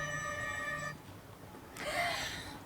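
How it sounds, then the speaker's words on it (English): A telephone ringing during an outdoor ribbon-cutting ceremony: a bright electronic ring that sounds, pauses for about a second, then rings again, fairly clear against quiet background. "someone's phone ringing up."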